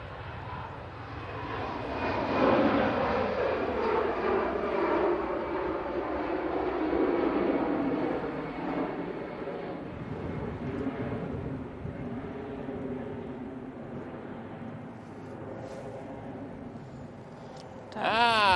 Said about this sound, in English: EasyJet off to Turin.